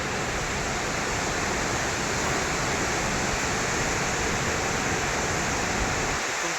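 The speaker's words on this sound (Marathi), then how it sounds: "तिथून तो धबधबा सुरू झाला" A waterfall at Bhandardara, falling into a deep valley, produces a steady, unbroken roar of rushing water that stays constant throughout with no voices.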